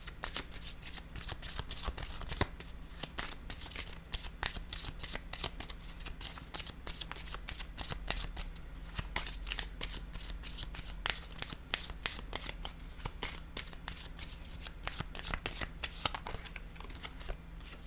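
Tarot cards are shuffled by hand in a quick, continuous run of crisp riffling flutters and soft slaps, close and fairly quiet, with no talk over them.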